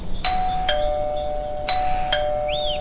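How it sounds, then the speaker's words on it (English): Doorbell sound effect in a children's Peppa Pig audiobook, two clear ding-dong chimes a second apart, bright ringing tones that decay slowly, alone with no talking. "Daddy Pig rings the bell."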